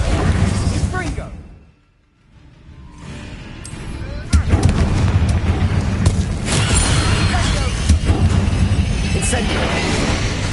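Confringo blasting spells in the video game Hogwarts Legacy go off as heavy explosive booms and crashes during loud combat, with a brief lull partway through, then sustained rumbling impacts.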